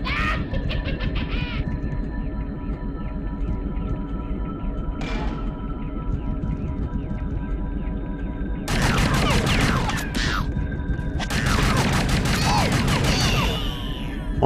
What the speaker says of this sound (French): Encore une fois, l'arme à feu